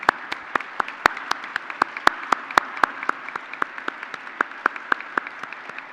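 Scattered clapping from a commencement audience honouring nursing graduates, sharp individual claps in an uneven rhythm rather than a dense roar, fairly close and moderately loud, with no speech over it.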